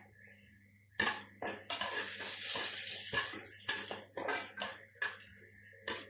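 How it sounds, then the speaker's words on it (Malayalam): Quarter cup of vermicelli roasting in a pan for falooda, heard as a steady soft crackle under repeated sharp scrapes and clinks of a spoon stirring against the metal. "അതിലേക്ക് ഒരു കാൽ കപ്പ് വെർമിസെല്ലി നമ്മുടെ ആവശ്യാനുസരണം ഒന്ന് റോസ്റ്റ് ചെയ്യാം."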